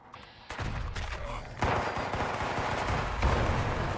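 Gunfire in the video game Fallout 76, with a quiet start that gives way to sharp repeated shots in quick bursts, loud and dense, with a rapid fusillade of cracks layered over a low rumbling background.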